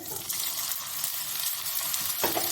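Small fish wrapped in bottle gourd leaves fry steadily in hot oil, a dense, continuous close sizzle and crackle with no voices.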